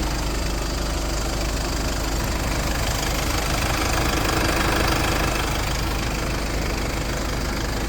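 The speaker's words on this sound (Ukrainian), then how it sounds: "Двигун працює ідеально" A 2019 Mercedes-Benz Sprinter refrigerator van's diesel engine idles steadily up close, its rapid clattering knock running evenly without a break and no voices over it.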